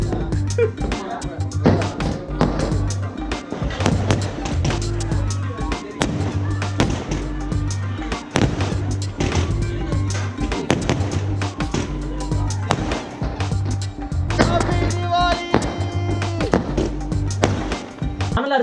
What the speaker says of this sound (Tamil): வெளியே பட்டாசு வச்சுட்டு இருக்காங்களா?